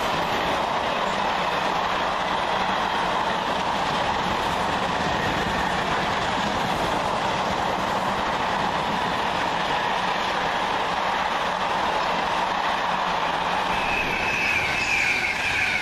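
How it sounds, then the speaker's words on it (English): A Pendolino passenger train runs past on the railway near Wolverton, a steady broadband rumble with faint wheel clatter throughout, close and continuous with no voices. "It's gonna be a Pendolino on the other side."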